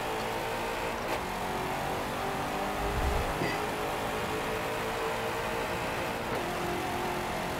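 A race car engine in a racing video game holds a loud, steady high drone with pitch shifts as it accelerates and eases off, alone without talk.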